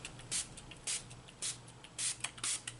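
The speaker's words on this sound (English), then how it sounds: "I'm just going to take some of this blue alcohol spray from Bakers and Crafters" Blue alcohol ink is sprayed onto paper in five short, hissing bursts at a fairly even rhythm, quiet and close, with no talk.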